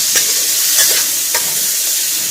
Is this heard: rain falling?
no